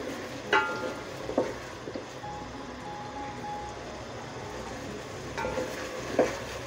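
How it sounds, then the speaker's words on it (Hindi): Taro pieces frying in a pan, a soft steady sizzle broken by a few sharp utensil clinks and stirring scrapes, close but fairly quiet. "हमें पहले फ्राई करना है ताकि इसके अंदर जो लेस होता है वो ख़त्म हो जाए।"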